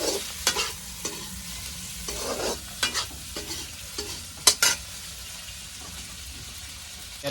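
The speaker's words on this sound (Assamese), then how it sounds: "এতিয়া চিকেনখিনি দি দিছোঁ আৰু অলপ ফ্ৰাই কৰি ল'ম" Chicken frying in a pan while being stirred, a steady soft sizzle broken by several sharp scraping and clattering stirring strokes, close up with no talking.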